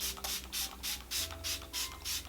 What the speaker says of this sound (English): I'm gonna go in with Smashbox setting